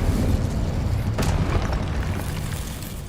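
An Incendio spell is cast in Hogwarts Legacy, heard as a loud, dense booming rumble with a brief sharp burst partway through, continuous and close.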